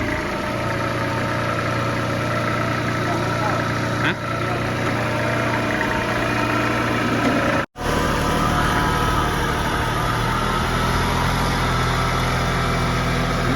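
A new L3408DT tractor engine drones continuously at close range during gear testing, a constant low rumble with a brief cutout partway through.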